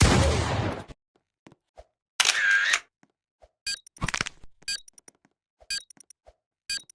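A video game explosion opens with a loud, roaring blast lasting under a second. A hissing burst and scattered sharp cracks and clicks follow against near silence.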